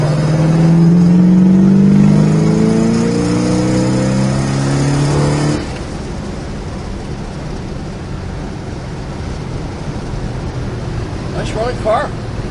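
A 1967 Pontiac GTO engine revs and pulls away loudly at first, then settles into a steady road drone as the car cruises along; a voice speaks briefly.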